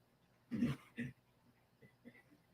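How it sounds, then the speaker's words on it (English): A sleeping dog chasing something in a dream gives two quick muffled whimpering yips close by, then a few soft, faint whines and breaths in a quiet room. "my dog is chasing something in his sleep"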